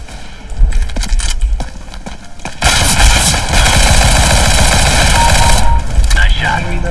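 P90 gunfire in a video game, scattered shots at first, then sustained rapid automatic bursts that are loud and continuous for several seconds, with a voice speaking over them.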